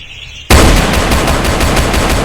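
Automatic gunfire in the Roblox game Brookhaven erupts suddenly after a quiet moment, then continues as a loud, rapid, evenly spaced stream of shots.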